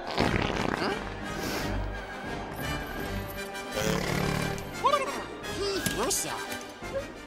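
Comic fart noises from a Star Wars prequel film mix with crashes and creature growls in a busy movie soundtrack, with a voice talking over the scene.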